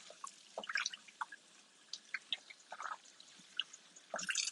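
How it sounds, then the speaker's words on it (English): Beef pot roast is rinsed under water, producing irregular close splashes, drips and wet squishes of meat being handled, with a louder burst of running water at the end. "So, gotta rinse your meat"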